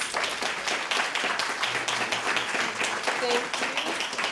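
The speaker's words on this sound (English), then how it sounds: "let's give our panel a round of applause" An audience at a workplace event applauds a panel with a steady, moderately loud round of clapping. Faint voices sound underneath.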